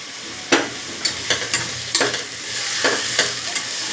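Onion with a spoonful of ginger-garlic paste sautés in a pan, a soft continuous sizzle punctuated by about eight sharp scraping stirs of a spoon against the pan, close up with no voices.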